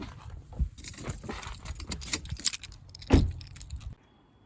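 A bunch of keys jangling close by as they are picked up on arrival by car, a busy run of metallic chinks and rattles with a sharper clash near the end before it goes quiet.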